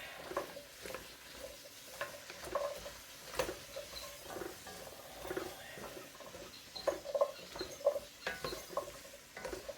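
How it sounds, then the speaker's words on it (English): A spoon stirs flour into a pot of beef shank vegetable soup, scraping and knocking against the pot over a soft simmering sizzle, with irregular taps throughout. "Give it a stir so we can get it all mixed in there"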